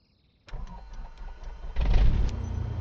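A light aircraft's engine starts up in Microsoft Flight Simulator 2024: a starter whir with ticking clicks, then the engine catches and settles into a steady, louder running drone.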